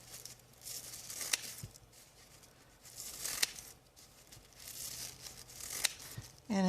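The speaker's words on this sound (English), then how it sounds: "this is leftover green tissue paper from Christmas, and I'm using my fringe scissors." Fringe scissors snip through fan-folded green tissue paper, giving three sharp crisp snips about every two and a half seconds over a soft papery rustle, close and fairly quiet.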